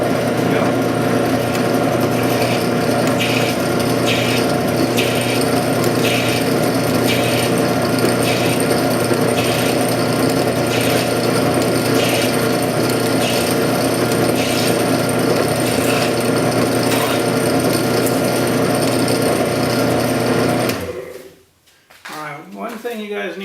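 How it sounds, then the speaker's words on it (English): A power drill runs at low speed into plastic while building a custom reservoir, producing a steady loud mechanical whir with a faint regular ticking for about twenty seconds before stopping abruptly. "if you're going to drill in plastic, you want to be running it at a low speed"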